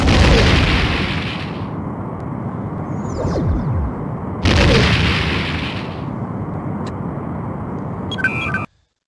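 Torpedo explosions in the Star Trek: The Next Generation – A Final Unity video game, two loud booming blasts a few seconds apart, each followed by a rumbling decay, with a short electronic beep near the end.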